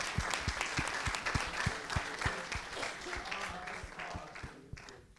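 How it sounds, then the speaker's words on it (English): Steady, dense applause from a seated audience at a council general assembly, many hands clapping at once, fairly loud and continuous before tapering slightly near the end. "That's where you clap"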